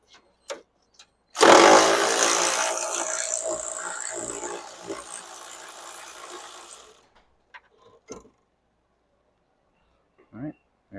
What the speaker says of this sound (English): If you have something like this electric ratcheting wrench